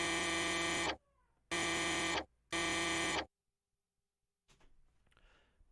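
Three bursts of a bright, dense synthesizer tone, each cut off sharply with short gaps, followed by silence and a faint, airy swish at the end, for processing through a Korg NTS-1.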